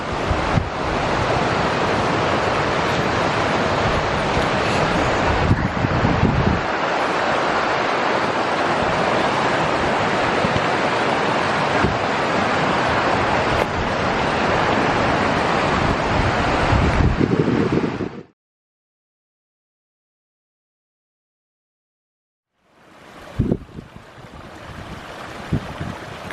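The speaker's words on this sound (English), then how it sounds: "Beautiful little creek. Running a little bit clearer up here." A small mountain creek in the North Absaroka Wilderness in April runs steadily with broadband rushing water, loud and close, for most of the stretch, then cuts to silence before the flow resumes near the end.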